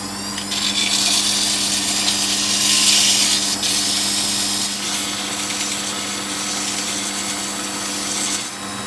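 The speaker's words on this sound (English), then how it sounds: "I'm just going to have a go at polishing or rounding the edge there a bit." Steady abrasive rubbing as the edge of a part from an Astor APK valve radio under restoration is polished and rounded, a continuous close scraping with a constant hum underneath, no talking.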